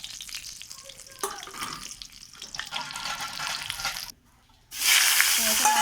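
Panch phoron spices hitting hot oil in a wok with a bay leaf, a steady crackling sizzle that swells loudly after a brief drop, close by.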